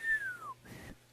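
A person whistles a single tone that glides steadily downward in pitch, imitating a drifting radio signal, then gives a shorter level whistle after a brief pause; quiet and close.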